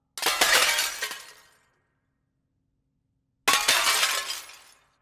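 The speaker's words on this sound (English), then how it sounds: "smaller glass smash library that I've made here, which I've muted everything apart from the glass shards and some of the more like scrap pieces of metal" Glass shards and scrap metal pieces smash in two loud, separate crashes, each a bright shatter with tinkling fragments that rings out over about a second and a half, divided by complete silence.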